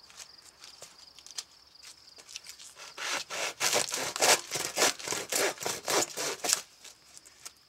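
Rotten birch bark is trimmed close up, a series of rhythmic rasping strokes that start soft and build into loud, regular scraping cuts, with no talking.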